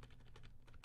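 Computer keyboard keys pressed for editing shortcuts, a quick run of soft, close clicks and taps, faint and brief.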